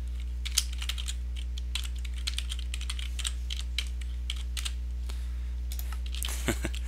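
Steady rapid typing on a computer keyboard, close and fairly quiet, irregular clicking keystrokes over a constant low electrical hum, with no talk.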